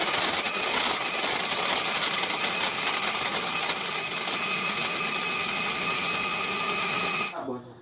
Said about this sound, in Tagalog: I-blender natin.